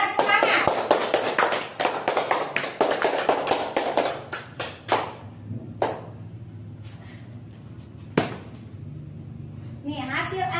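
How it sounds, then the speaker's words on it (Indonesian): Classroom students clap to encourage a presenting group, a brief burst of uneven hand clapping that thins into a few scattered claps, with some voices in the room. "Beri tepuk tangan dulu biar semangat."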